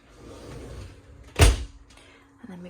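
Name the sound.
sliding shower doors meeting in the middle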